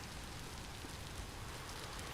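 Steady, soft rain hiss from the Vintage Story game world, a constant even patter with no breaks, faint and uniform throughout.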